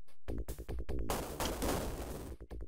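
Gunfire from the Sega Genesis video game True Lies comes as a rapid series of loud bursts: several short separated shots, then a longer sustained barrage, then a few more shots.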